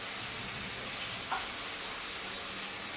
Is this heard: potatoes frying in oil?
yes